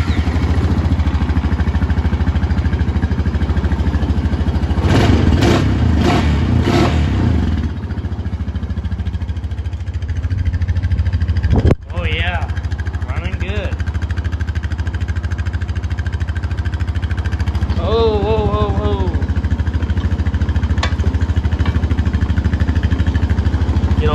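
A 2020 Honda Rubicon 520 ATV engine, just serviced with new oil, filter and air filter after being swamped, runs loud and steady at close range, with brief revs early and a sharp knock midway.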